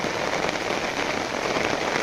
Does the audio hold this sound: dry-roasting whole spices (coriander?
no